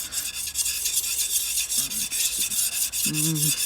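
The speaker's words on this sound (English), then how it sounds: "I just lap the back of the blade. I'm just going to start with the coarse stone." Back of a rusty plane blade being lapped on a coarse sharpening stone, rapid close gritty rubbing strokes in a steady rhythm, with a couple of brief faint tonal sounds in the background.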